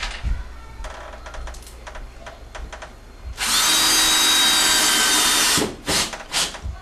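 A cordless power drill drives a screw into a drywall patch, a loud sustained whir of about two seconds after quieter handling clicks and taps, then a couple of short trigger bursts at the end.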